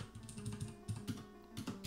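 Close, quick typing on a computer keyboard, with a rapid run of light key clicks and a few sharper taps clustered together, played alone with no voices.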